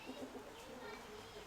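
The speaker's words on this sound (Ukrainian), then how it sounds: "голубів тримаю, трошки підкидаю їх." Kept pigeons coo softly and faintly, low murmuring calls against a quiet background.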